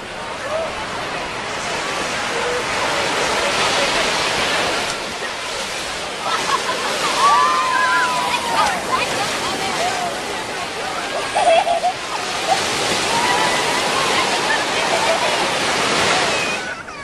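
Surf washing and splashing along a shoreline where seawater is gathered for steaming lobsters, a steady broadband wash with some wind noise and a few faint voices beneath it.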